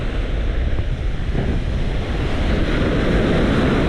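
Sea waves surge and break continuously on the shore at a cold beach in Luxembourg or the Benelux coast, loud and close, mixed with strong wind buffeting the microphone.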